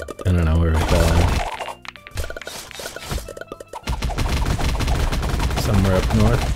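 Bursts of rapid gunfire and booming blasts in the video game Rack and Slay, punctuated by sharp impacts, with music or effects loud throughout and a brief lull midway.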